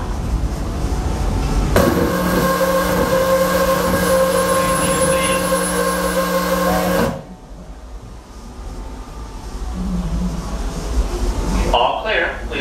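A Walt Disney World Railroad steam train rolls to a stop at the platform. A loud rumble carries a sustained, tonal whistle-like hiss that cuts off sharply, then quieter rumbling follows. An announcer's amplified voice speaks throughout.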